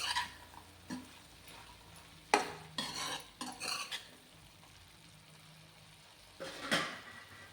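A spoon scrapes and knocks through a pan of potato, fenugreek leaf and pea curry seasoned with garam masala, in a few quiet, scattered strokes with soft sizzling between them.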